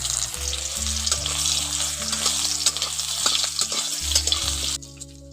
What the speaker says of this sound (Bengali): এবার কেটে রাখা আমগুলো ওর মধ্যে দিয়ে একটু ভালো করে ভেজে নেব।